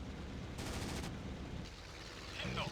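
An A6M Zero fires its 20 mm cannons and 7.7 mm machine guns in IL-2 Sturmovik: 1946 during the Pearl Harbor attack, heard as dense, continuous rattling bursts with one sharper surge in the middle, all fairly distant and muffled.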